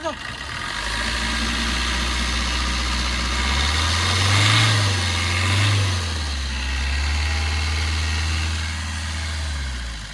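A 2017 Maruti Swift Dzire LDi diesel engine idles steadily up close, its low rumble rising briefly in revs twice around the middle before settling back to a smooth idle.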